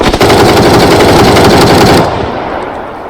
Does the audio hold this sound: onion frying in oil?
no